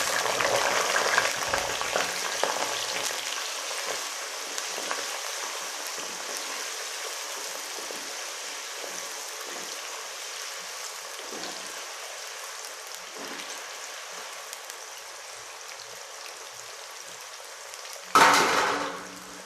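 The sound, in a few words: potatoes frying in a pan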